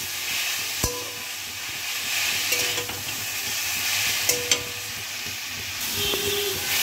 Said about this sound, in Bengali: 4-5 মিনিট মতন শাকটাকে ভেজে নিতে হবে বা কষিয়ে নিতে হবে।